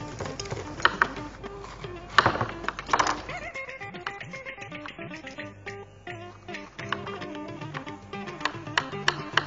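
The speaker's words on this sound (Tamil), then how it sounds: "அடுத்து நம்ம இந்த மஞ்சள் குடமிளகாய் நறுக்க போறோம்." A knife cuts a yellow bell pepper with quick, irregular tapping strokes on a board, brisk at first and then lighter and denser, over faint background tones.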